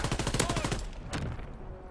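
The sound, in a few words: shotgun gunfire in Call of Duty video game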